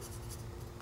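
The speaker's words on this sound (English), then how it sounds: "So we're gonna write that down." A pen scratches briefly on paper as a measurement is jotted down by hand, a soft, close, continuous scribble lasting under a second.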